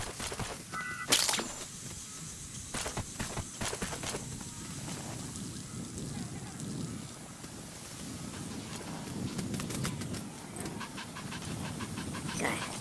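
A dog pants rapidly and steadily, up close, in the Metal Gear Solid V: The Phantom Pain video game, with a few sharp clicks and a faint windy background.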